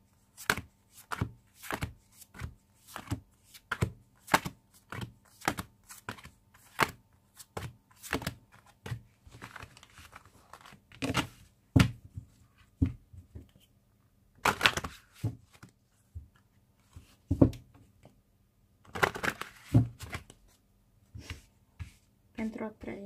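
A deck of tarot cards is shuffled by hand in repeated short, crisp riffles and slaps, close and fairly quiet, with a voice talking at times.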